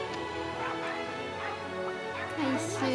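Dogs in the video game Monster Hunter Rise bark and yip in short bursts over a steady wash of game music and ambience, with a rising whine-like call near the end.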